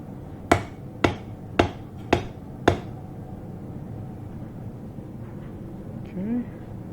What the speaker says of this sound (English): a little pounding here. Good on the anvil.